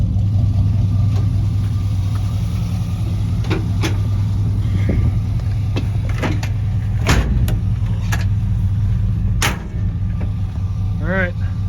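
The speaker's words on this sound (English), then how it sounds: "we're gonna start it up and take it for a ride" A 1972 Chevrolet C10 pickup truck engine runs close by with a loud, steady low rumble throughout, plus a few faint clicks and knocks over the drone.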